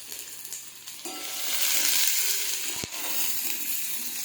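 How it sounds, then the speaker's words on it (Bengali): Onion and green chillies frying in a pan of oil give a steady, close sizzle that swells after the first second. A brief clink sounds near the end. "লঙ্কা আমার চড়বড় চড়বড় চড়বড় চড়বড় করে ফুটছে। এবার দিয়ে দেবো একটু পেঁয়াজ।"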